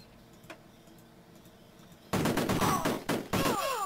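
Rapid bursts of gunfire from the Amiga game Cannon Fodder, starting abruptly after a quiet stretch and continuing as a loud, dense rattle with squealing effects mixed in.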